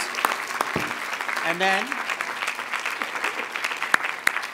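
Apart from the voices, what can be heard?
graduation ceremony audience applause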